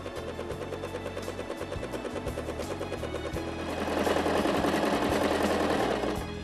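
A Brother LS 1217 sewing machine stitches fabric with a steady, fast mechanical chatter. It runs continuously, close up and fairly loud, and grows a little louder partway through.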